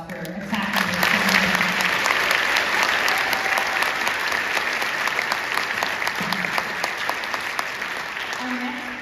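An audience claps for a senior high school string orchestra at its spring concert, a loud, sustained wash of applause with brief voices murmuring near the start and end.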